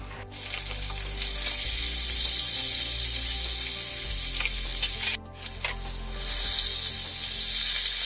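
Fish frying in a pan, a loud, close, continuous hiss of hot oil that briefly dips as the fish is moved, then returns to a full steady sizzle.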